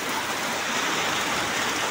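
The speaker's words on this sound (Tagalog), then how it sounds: "Malakas ang ulan. Dito sa Quezon Province, pabugso-bugso ang ulan." Heavy gusting rain in Quezon Province, a dense continuous wash of falling water, steady and fairly distant-sounding, with no voices.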